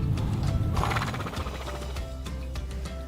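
Patrol horses at Vandenberg Air Force Base move nearby, with hoof clopping and a snort or whinny over a steady outdoor rumble, fairly close and moderately loud.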